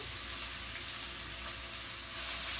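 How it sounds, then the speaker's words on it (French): Onions and garlic sizzle in a few oils in a large, very hot sauté pan, a faint, steady hiss and crackle that swells slightly at the end; no talking. "j'ai un grand sautoir qui est très chaud, quelques huiles, et on met des oignons, de l'ail"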